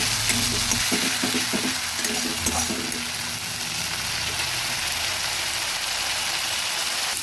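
Onion paste goes into hot oil with fried ginger, garlic and chopped onion for a fish curry, giving a loud, dense, continuous sizzle. A few stirring knocks come early on, then a steady hiss with no talking.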